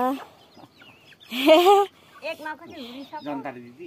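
A village hen flock in Bhojpur, Nepal, clucks in short, close bursts, with a louder squawking flurry in the middle, while people talk nearby.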